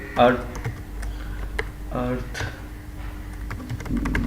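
A computer keyboard clatters as PHP code is typed, with quick irregular key clicks close by, partly under someone speaking.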